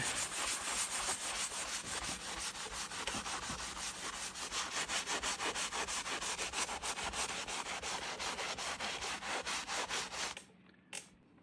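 An old Alcoa aluminum rim in bad condition being scrubbed with quadruple-zero steel wool and diluted heavy-duty cleaner, giving fast rhythmic back-and-forth rasping strokes, close and steady, that stop abruptly near the end, with no talking.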